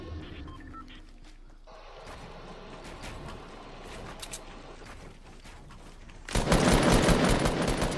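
Gunfire in the Fortnite video game comes as rapid automatic bursts and scattered single shots. A loud, dense volley breaks out toward the end, with faint voices and game sounds underneath.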